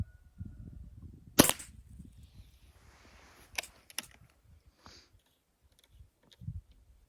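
Sharp snapping shots from a scoped air gun firing Öztay Shanghai pellets, a few spaced pops with quiet pauses and faint clicks of handling between them, no talking.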